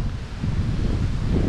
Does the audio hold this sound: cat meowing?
no